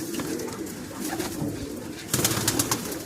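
Black diamond pigeons coo in soft, repeated low calls close by, with a brief burst of louder fluttering activity near the end.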